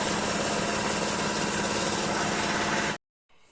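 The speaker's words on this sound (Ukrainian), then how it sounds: "Включив компресора, зараз тут ту всю пилюку повидуваю, повичищаю" Air compressor blowing dust off a Citroen C4 clutch in a workshop, giving a loud, steady broadband rush with an engine-like throb for about three seconds before cutting off abruptly.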